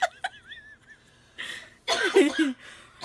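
A few short coughs and throaty bursts, fairly close, following a brief high-pitched vocal squeak; no clear speech.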